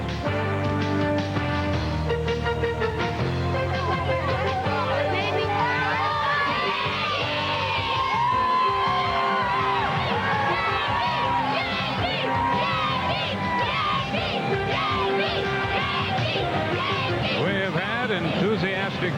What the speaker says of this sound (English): Enthusiastic crowds throughout this series, and a big house again this afternoon